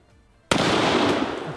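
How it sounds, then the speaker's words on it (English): A single sharp gunshot goes off at a 2-liter plastic bottle target, a loud crack after brief quiet followed by a sustained noisy tail. "I'm gonna shoot a 2-liter here."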